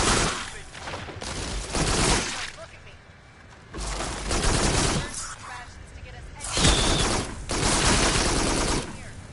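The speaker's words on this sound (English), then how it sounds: "I'll burst fire while I got the chance." Bursts of rapid gunfire from an overheating weapon in the shooter game Farpoint, several loud volleys separated by short pauses, with a voice talking over parts of it.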